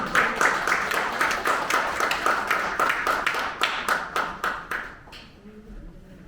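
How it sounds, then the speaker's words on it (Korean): Audience applause greeting a professor stepping up to give a keynote at a conference on orphans and institutional child care; dense, steady clapping from a crowd that thins and fades out after about five seconds. "여러분 큰 박수로 맞아주시기 바랍니다."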